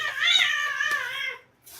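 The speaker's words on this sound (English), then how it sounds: "Sometimes the cats play a little rough." Pet cats tussling roughly let out one long, loud rising-and-falling caterwaul, close by, ending abruptly before a brief faint noise.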